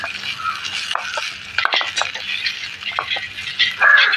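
A small utensil stirs onions sautéing in a miniature pan for puffed-rice upma, making light metallic clinks and quick scrapes in uneven bursts, close and fairly crisp, with no talking.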